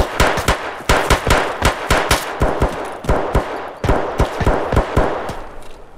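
Automatic fire from an M4 rifle in the video game Escape From Tarkov, running at about 850 rounds per minute: loud, close bursts of rapid shots with brief pauses between them.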